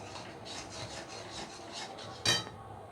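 Spoon scraping through a sweet milk mixture in a pan on medium-low heat, soft rhythmic rubbing strokes ending with one sharper, louder scrape.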